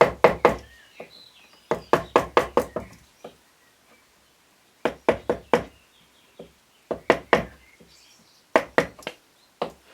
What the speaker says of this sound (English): Now you come in with the gouge and just carefully round off the eye.